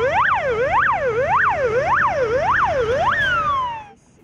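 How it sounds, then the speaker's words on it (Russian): Emergency sirens wail in a training drill on the Oka river, a loud, steady up-and-down cycle repeating about every half second for several rounds. The pitch then holds and drops before the sound cuts off. "Сегодняшнее безмятежное рыбацкое утро нарушил вой сирен. К счастью, это был учебный сигнал."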